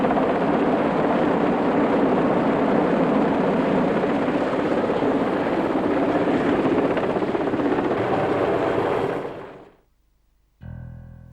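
A helicopter's rotor drones loudly and steadily for several seconds, then cuts off abruptly, followed by a brief quieter hum.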